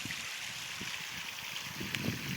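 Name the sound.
water trickling during morning garden watering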